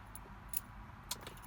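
Fragile, taped-together key for a Volvo S60 Turbo jangles with a few faint, brief metallic clinks over quiet background hum, close by, with no talk.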